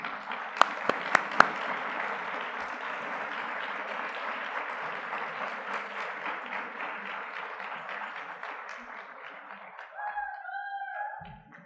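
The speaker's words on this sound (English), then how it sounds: "Keep clapping for them." An audience at a writing showcase awards event applauds tied award winners, steady sustained clapping from a crowd in a hall with a few sharp nearby claps early, fading near the end as a voice begins.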